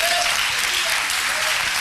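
Dense applause from a large crowd at a church congress fills the whole moment, steady and loud, with a few voices faintly audible underneath.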